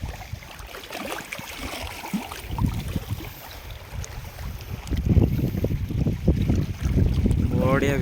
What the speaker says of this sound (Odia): ଆପଣମାନେ ଶୁଭୁଛି କେମିତିଆ କୁଳୁ କୁଳୁ ପାଣିର